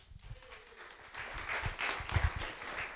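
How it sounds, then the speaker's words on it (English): Audience applause for Barry Kushner at a Skeptics in the Pub talk, a steady wash of clapping filling the room, moderately loud and continuous for a few seconds with no voices over it. "please, massive round of applause for Barry Kushner"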